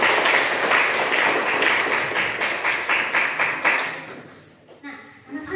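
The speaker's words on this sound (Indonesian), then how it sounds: "Berikan aplaus dulu buat kalian." Secondary-school students in a classroom clap together in a loud round of applause that grows sparse and fades into a few scattered claps.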